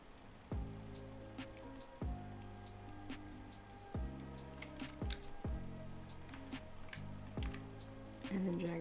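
Computer keyboard keys pressed and clicked in sharp single taps, about five spaced roughly a second or two apart over a quiet room background, with brief speech in places.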